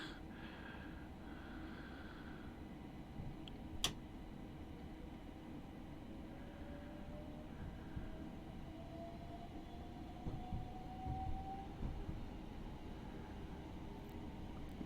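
A Class 387 electric multiple unit in Train Simulator Classic runs steadily out of London King's Cross, giving a continuous low rumble with a rising whine and one brief sharp clank, and no one talks over it.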